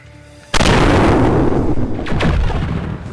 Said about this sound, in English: Volkov fires a particle cannon and a laser